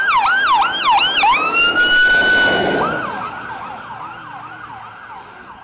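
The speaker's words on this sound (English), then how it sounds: "Here comes an ambulance." A loud wailing ambulance siren sweeps up and down repeatedly on a street in Spryfield, close at first, then fading as it moves away.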